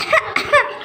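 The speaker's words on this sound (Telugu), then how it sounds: "చేతులు అడ్డు పెట్టుకొని దగ్గుతున్నాను" A child gives two or three short, close coughs into cupped hands, which muffle them slightly, in a quick run with no speech.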